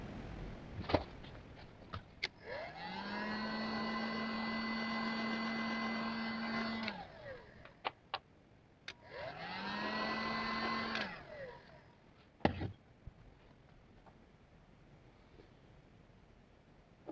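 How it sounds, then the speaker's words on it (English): Handheld heat gun drying a wet airbrush part, blowing in two steady whooshing runs of several seconds each with a clear pause between, close and moderately loud, with small clicks and handling taps around them. "I'm going to put a heat gun on it and dry it out"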